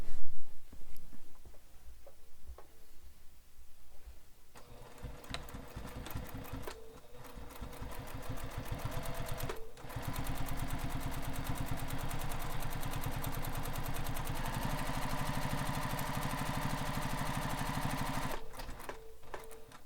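A sewing machine stitches webbing onto a beach bag, its needle clattering in a fast steady run that stops and restarts a few times, close and fairly quiet with no talking.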